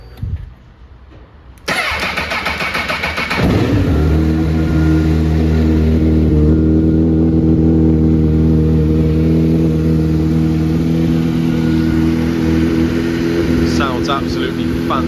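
A motorcycle fitted with a Yoshimura slip-on exhaust cranks and fires up after a short pause, then settles into a loud, close, throbbing idle with occasional blips of the throttle.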